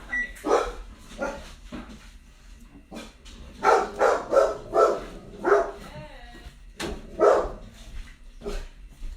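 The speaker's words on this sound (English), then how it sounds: "I know you hear the dog in the background." A dog barks repeatedly in the background of a room, several sharp barks in uneven clusters, mixed with a person talking nearby.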